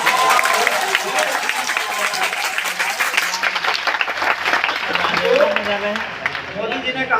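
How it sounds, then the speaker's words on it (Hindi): Loud, sustained applause fills a hall at a university poetry gathering (kavi sammelan), dense crowd clapping that thins a little toward the end with faint voices mixed in. "तालियां एक बार और बजा दीजिए।"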